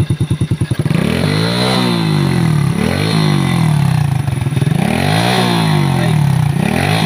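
A motorcycle engine that is smoking white and leaking oil from the exhaust, suspected of worn piston rings and valve seals, thumps at idle and then revs loudly up and down in several rising and falling sweeps, very close.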